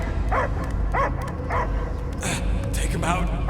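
A dog barks in the video game Marvel's Guardians of the Galaxy, several sharp yips and barks in quick succession, close and loud, mixed with voices talking.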